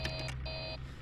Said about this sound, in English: a little bit of a delayed alarm there.